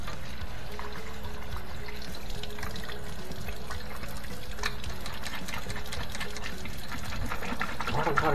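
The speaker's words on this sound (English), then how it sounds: "A lot of water swishing around in there now." Water swishes and churns inside a dishwasher during cleanup, a steady sloshing wash with a faint mechanical hum beneath it and scattered clicks, heard continuously up close.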